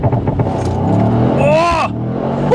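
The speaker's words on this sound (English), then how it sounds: "let's now do a launch control of the AMG GT" A 2024 Mercedes-AMG GT63 coupé roars through a launch-control start, with a loud rising engine note and a gear-change swoop, and someone talks excitedly over it.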